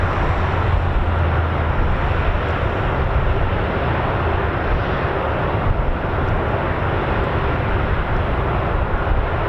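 Flight of three US Air Force military aircraft passing overhead, a steady loud broadband engine roar that holds evenly throughout with no voices.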